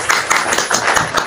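A few people clap their hands in rhythmic bursts during a casual ice-and-fire makeup challenge at home, close and uneven, with quick regular pulses across the short moment.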